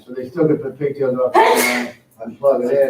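A single sneeze bursts out during a board meeting, brief and fairly loud, set between stretches of someone talking.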